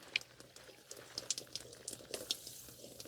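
Water bubbles faintly as it is pushed through a garden hose in freezing cold weather, giving quiet, irregular gurgles and pops with short pauses between them.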